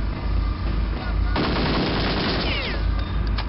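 Rapid automatic gunfire roars continuously in the crime shooter game Kingpin: Life of Crime, loud and sustained, with bursts of crackling impacts layered over a constant low rumble.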